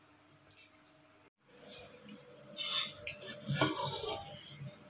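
Soybean chunks cooking in a pot for soybean biryani, with a metal spoon clinking and scraping against the pot and a soft sizzle while a voice talks nearby.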